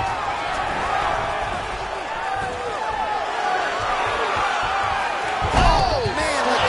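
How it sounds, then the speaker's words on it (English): A fighter slammed down onto the canvas in a UFC video game on PS4, one heavy thud near the end cutting through steady arena crowd noise and commentary. "the canvas is shaking as he slams him down"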